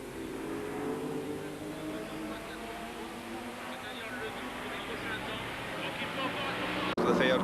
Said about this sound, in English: The field coming through. That glorious Porsche 908 there, really being slid around.